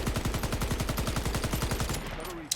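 Sustained rapid automatic gunfire from the Pacifier XM27 in the video game Shatterline, a loud, steady stream of evenly spaced shots that stops just before the end.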